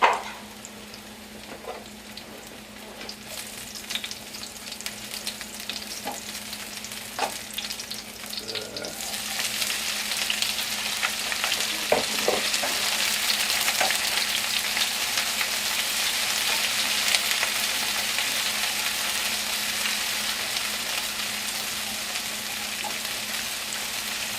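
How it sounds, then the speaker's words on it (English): Vegetables and mushrooms sauteing in a hot pan, a steady crackling sizzle with occasional spoon scrapes and stirring knocks, growing louder and fuller midway and holding on, close with no talk. "Saute the vegetables and the mushrooms first."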